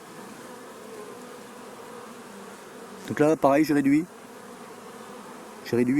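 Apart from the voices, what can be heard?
honeybees buzzing at hive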